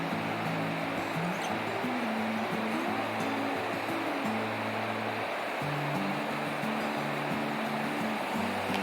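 Clear glacier-fed river water at Mount Rainier National Park flows in a steady, full rushing wash, close by and constant, with a low tonal hum beneath it and no voices.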